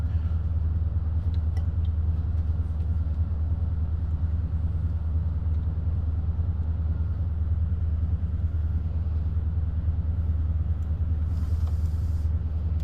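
A train locomotive engine in Train Sim World 2, running at throttle stage 3, gives a steady, loud, low rumble that continues without a break, with no talking.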